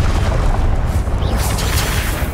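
A Confringo blasting spell going off in Hogwarts Legacy: a loud, close, rumbling explosion with a sustained low boom that rolls on for a couple of seconds.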